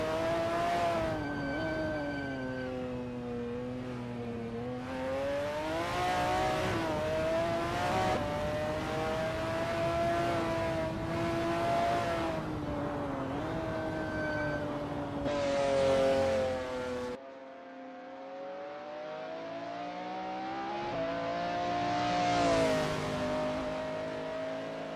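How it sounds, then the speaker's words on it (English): A McLaren F1 GTR race car at Sonoma Raceway, its engine note climbing and falling through gear changes as it drives through the corners, loud and sustained with rising whines at the top of each pull. "That ASRL McLaren F1 GTR looks good driving through T3"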